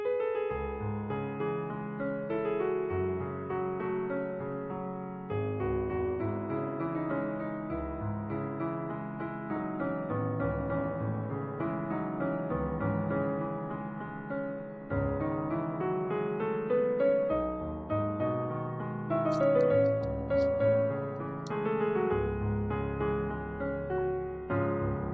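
Computer piano playback of a Bollywood song from Veer Zara, notated in MuseScore, with a steady flowing melody over sustained chords, continuous and clear without any talk.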